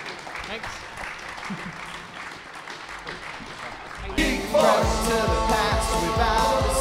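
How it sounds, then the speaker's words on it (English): Applause for the guest artists on a comic con panel, starting as a murmuring room and swelling into louder, closer clapping from the audience in the second half, with some voices mixed in. "Round of applause."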